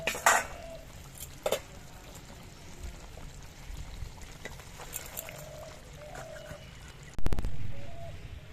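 A cooking pot of oil-fried koi fish in thick, dried-down gravy is lifted off the stove, with light metallic clinks early on and a louder clanking knock of the pot near the end, close by.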